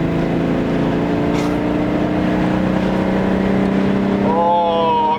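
A VW Golf VR6 engine drones in a steady, close hum while the car climbs a hill, then rises in pitch as revs build near the end.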